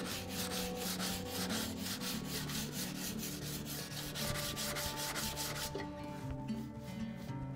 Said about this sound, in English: you can just take a little bit of sandpaper on a flat block and just run over it a little bit